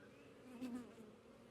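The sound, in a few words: honeybees buzzing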